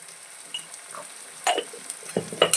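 Pieces of home-style Indian desi chicken fry in a pan while being stirred, a soft sizzle broken by a few sharp scraping stirs close by.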